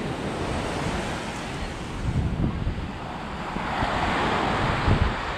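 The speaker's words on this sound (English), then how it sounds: "It's just a beautiful day on the beach." Surf rolling onto a beach in Roatan, Honduras: a steady, loud wash of breaking waves with wind buffeting the microphone, swelling with heavier breakers around the middle and near the end.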